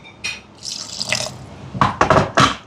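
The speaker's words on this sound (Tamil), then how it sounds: "இனி வந்து தண்ணி கணக்காகல சட்னிக்கு தேவையான அளவுக்கு" Water poured into freshly ground peanut chutney, a few short splashing pours and trickles at close range, the last pours coming in quick bursts near the end with no talk over them.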